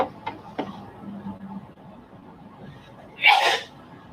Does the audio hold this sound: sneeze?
yes